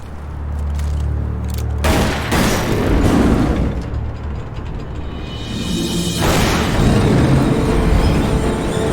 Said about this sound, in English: Dual shotguns.